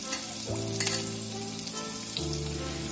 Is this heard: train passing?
no